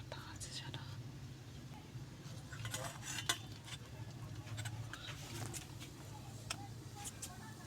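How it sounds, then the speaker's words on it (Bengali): Batter for hibiscus flower fritters whisked in a bowl, a quiet run of soft clinks and taps from the utensil against the bowl, with low whispery voices and background noise under it throughout. "বন্ধুরা আমি বেটারটা এরকম ফেটে নেব"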